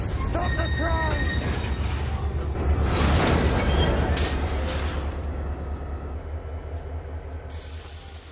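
A train grinds to a stop with its wheels squealing on the rails, a loud, continuous metallic screech over a heavy rumble and hiss that slowly fades as it slows.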